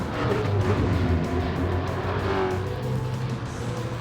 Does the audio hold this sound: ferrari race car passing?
yes